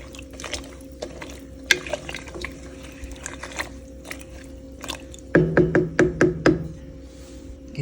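Potatoes are stirred through a pot of homemade chicken vegetable soup, with liquid sloshing and scattered knocks, then a quick run of louder splashing, clunking strokes near the end, close by and without speech.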